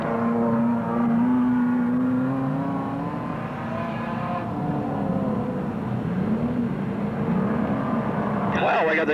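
Standard Saloon race cars run a feature race at Wollongong City Speedway, their engines droning continuously and loudly with pitch swelling and sagging as the cars circle the track.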